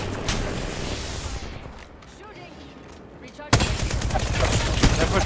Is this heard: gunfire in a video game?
yes